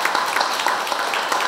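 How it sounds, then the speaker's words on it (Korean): Steady, dense applause from a forum audience welcoming a speaker at a 2019 Siheung education forum, a continuous even wash of many hands throughout. "박수로 모시겠습니다."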